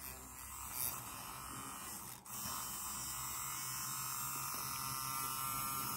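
A Dragonhawk Extreme tattoo machine runs at setting 7, a steady, quiet electric hum and buzz held throughout with one brief dip, no talk.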